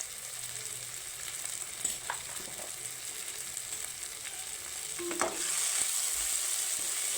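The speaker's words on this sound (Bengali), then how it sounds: "এবার মশলাটা আমি কষে নেব" Ginger, garlic and onion paste sizzling in a hot pan for a Bengali cauliflower and potato curry with cashews and raisins, a steady close frying hiss with occasional stirring scrapes that grows louder near the end.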